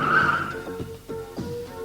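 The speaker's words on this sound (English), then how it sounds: "Benny pulled on the brakes and his go-kart stopped." A go-kart skids to a halt under braking, a brief tire screech at the start followed by a few rumbling thuds as it settles.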